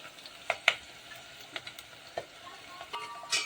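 Garlic added to hot oil with chopped onion while making sambar, a quiet sizzle with sharp spattering pops and stirring clicks, close by and without talk.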